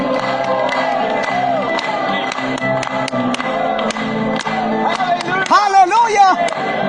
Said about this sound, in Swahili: Hebu tupige makofi tu mara moja zaidi.